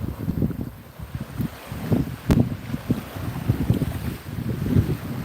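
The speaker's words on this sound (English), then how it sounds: "that's the bad part about the south of France, that you always have like a little bit of wind" Wind blows across a beach in the south of France, a steady rough buffeting that rumbles against the microphone in gusts, with no voices.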